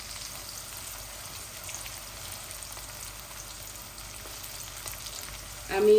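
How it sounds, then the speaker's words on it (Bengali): Garlic and panch phoron spices frying in oil, a steady close crackling sizzle that holds evenly throughout, with a louder burst of movement right at the end. "রসুনগুলা আর পাঁচফোড়নগুলা লাল হয়ে যাক।"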